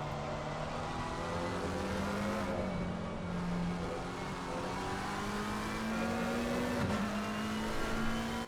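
A Lamborghini Huracan GT race car in a racing video game, on the Imola GP circuit, holds a loud sustained engine note that climbs steadily through upshifts, with a brief dip near the end and no talking.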